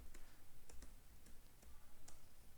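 Typing on a computer keyboard while entering login credentials, a few sparse, quiet key clicks spread over a low steady background hum.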